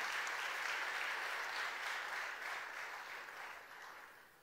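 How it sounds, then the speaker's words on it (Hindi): Steady applause from a large crowd welcoming a civil service exam topper on stage at a public ceremony, dense and even, gradually fading toward the end. "तालियों से स्वागत करेंगे"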